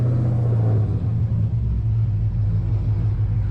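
A cammed widebody Dodge Scat Pack at close range, its engine holding a deep, steady, loud idle rumble with a lumpy low throb and no voices over it.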